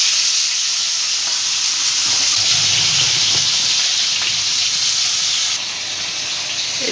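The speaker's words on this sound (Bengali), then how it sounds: "আর মাছ তো খুব ফোটে, এই জন্য একটু সর্ষের তেল মাখিয়ে রেখেছিলাম।" Fish sizzling steadily in hot mustard oil in a pan, a continuous close bright frying hiss throughout with a slight drop in intensity near the end, no talking.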